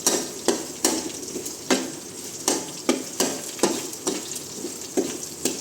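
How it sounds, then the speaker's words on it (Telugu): Urad dal lightly frying in a pan, a soft steady sizzle broken by regular scraping strokes of a stirring spoon, close and clear with no talking. "ఈ విధంగా వేయించి ఎక్కువ ఏం వేగవలేదు,"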